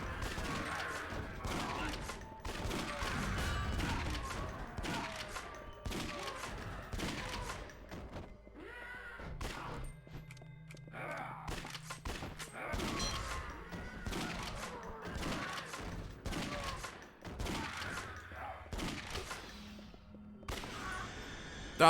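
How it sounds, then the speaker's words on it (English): Gunfire in the zombie-shooting game Yakuza: Dead Souls: rapid bursts of shots crack out in dense clusters amid crashes and thuds, loud and close, with game noise and occasional voices mixed in. "Well, you got a gun, shoot!"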